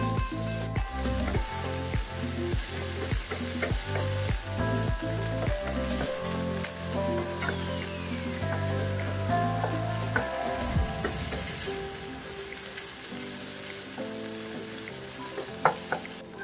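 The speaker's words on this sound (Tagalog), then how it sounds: "papupulahin lang natin yung ating chicken breast" Chicken breast fries in a pan for a pork, chicken and shrimp sisig, giving a steady close sizzle broken by repeated clinks and scrapes of a utensil stirring against the pan.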